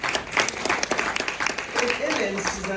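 An audience at a Women Deliver gathering applauds in a short burst of brisk, fairly close clapping, with voices mixed in under the hands.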